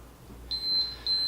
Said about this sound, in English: Turn this off so it quits beeping.